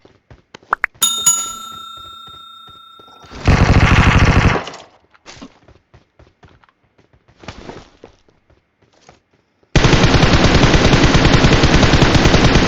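Bursts of automatic gunfire in PUBG Mobile, a long rattling volley and then another sustained burst, separated by scattered single shots and quieter gaps, with a ringing pickup chime near the start.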